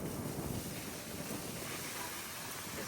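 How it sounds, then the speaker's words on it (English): Wind blows outdoors near a nail salon, a broad steady rush buffeting the microphone for a few seconds with no talking over it. "It's so windy."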